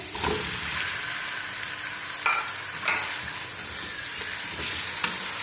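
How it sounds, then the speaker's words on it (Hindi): Garlic, ginger and chicken sizzling and crackling in a pan, with occasional scraping stirs and clinks of a utensil over the steady frying hiss. "लहसुन अदरक फ्राई होना शुरू हो गया। अब साथ ही हम इसमें चिकन ऐड कर देंगे"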